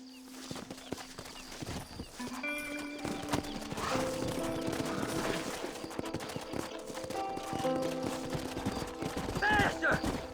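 Horses gallop in the Western video game Red Dead Redemption, a steady clip-clop of hooves running under a continuous music score, with a brief whinny and distant gunfire-like cracks mixed in.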